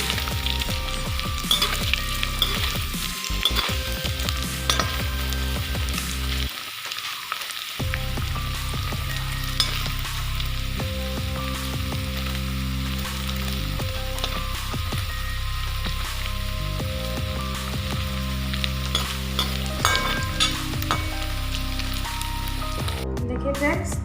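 Loud continuous sizzling of paneer frying in hot oil, crackly and close, with occasional clatter of utensils.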